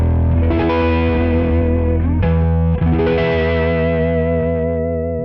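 Six-string stretched guitar chord played through a KHDK Annihilator analog octaver pedal, loud and sustained, with a thick distorted tone and a low octave layered beneath the upper notes; the chord is struck again about halfway through.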